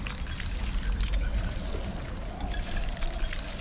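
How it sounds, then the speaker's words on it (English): Water pours steadily from a water skin onto plants in the survival game Icarus, a continuous close splashing trickle lasting a few seconds. "Done. They're all watered."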